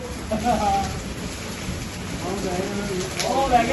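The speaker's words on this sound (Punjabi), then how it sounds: "ਪੂਰਾ ਮੀਂਹ ਪੈਂਦਾ ਦੇਖ ਲੈ" Heavy rain falls on a farm in a steady, dense hiss that runs the whole way through, with voices talking faintly underneath.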